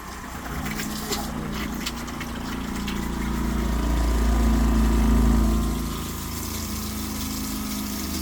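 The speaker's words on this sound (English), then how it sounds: "Man, that water pump puts out" A water pump runs inside a box van, a steady close hum with rushing water that swells briefly in the middle, then settles back to an even drone.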